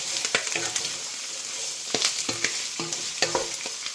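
Celery, spring onion and garlic sautéing together in a pan, sizzling steadily while a spoon stirs in sharp, repeated scraping strokes close by, with no talking.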